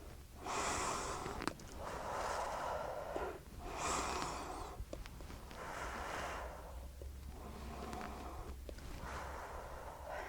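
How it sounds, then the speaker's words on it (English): Slow, deep breaths taken one after another, each long inhale and exhale rushing close and airy with brief pauses between, repeated several times with no talking over them. "you're going to take 3 more big deep breaths"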